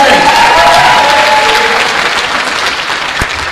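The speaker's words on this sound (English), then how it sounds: "Everybody give Maddie a round of applause for actually volunteering" A crowd applauds loudly for a volunteer at a live hosted audience event, a full, continuous roar of clapping that tapers slightly, with a brief cheer early on and a sharp clap or thump near the end.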